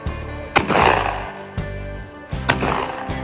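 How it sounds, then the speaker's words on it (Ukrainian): Three sharp gunshots ring out about a second apart, each a loud crack followed by a rumbling, ringing tail, with no talking. "я стріляю!"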